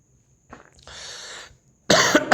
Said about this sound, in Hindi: थोड़ा सा खांसी आ गया था